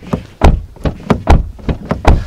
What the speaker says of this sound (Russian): Вот закрываешь дверь